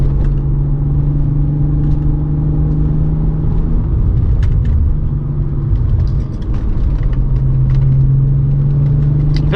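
Car with air suspension on a gentle test drive, its engine giving a steady, close, rumbling hum with a slight pitch dip midway, no talk.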